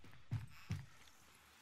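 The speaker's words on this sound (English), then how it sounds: "I hear footsteps in the wood." Footsteps on wood in the tactical shooter Ground Branch: two dull, fairly close thuds a short interval apart, followed by a sharp faint tick.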